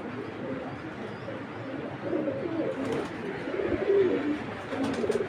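A pair of mili checker pigeons coo steadily at close range, producing a low, continuous burbling murmur from several birds that swells slightly in the second half.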